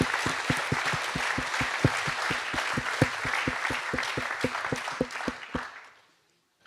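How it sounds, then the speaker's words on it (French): An audience at a trades skills competition applauds, a steady crowd clapping with a sharp, regular single clap standing out near the microphone, then fading out to silence. "Je crois que ça mérite vraiment des applaudissements"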